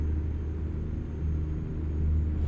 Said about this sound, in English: It's just great sounding truck